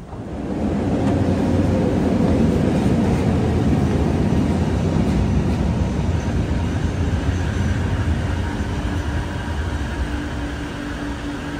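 A metro train rolls into the KLCC station platform in Kuala Lumpur, a loud, sustained rumble and rush that swells over the first seconds and then holds steady, with no voices.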